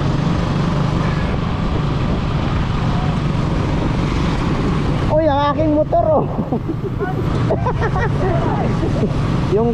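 A motorboat engine drones steadily on a river, a loud continuous low rumble with wind buffeting the microphone; partway through, a voice talks over it.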